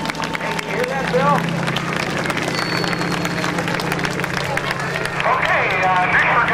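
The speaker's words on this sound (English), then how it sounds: "how about a nice round of applause for the man from Dayton, Ohio?" Applause from an airshow crowd at NAS Oceana, a broad steady wash of clapping over loud background noise, with crowd chatter and a voice running underneath.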